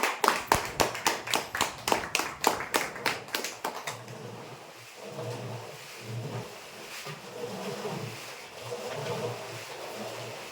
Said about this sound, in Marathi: जोरदार टाळ्या होऊ द्या यांच्यासाठी